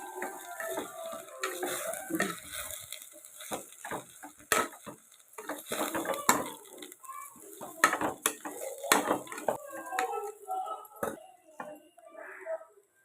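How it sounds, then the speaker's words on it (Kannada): Half a kilo of rice is stirred in oil in a pan for carrot pulao, with a spoon scraping and clinking against the metal in busy, uneven bursts. The sounds are fairly close, with a soft background hiss and no talking. "ಇವಾಗ ಇದನ್ನು ಚೆನ್ನಾಗಿ ತಿರುಗುತ್ತಾ ಇದ್ದೀನಿ ಎಣ್ಣೆಯಲ್ಲಿ"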